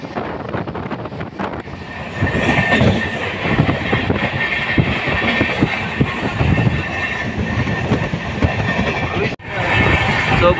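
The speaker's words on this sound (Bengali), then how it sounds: "110-115 কিলোমিটার স্পিডে চলছে ট্রেন।" The Kamrup Express passenger train runs at around 110–115 km/h near Guwahati, giving a loud, steady rumble with rhythmic wheel clatter and wind buffeting, and a short dip near the end.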